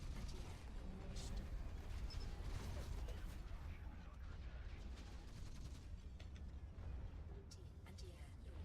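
Anti-air launch in the mech video game Hawken: dense rumbling mechanical launch and firing noise with clanks and sharp bursts, steady and loud throughout, under a voice.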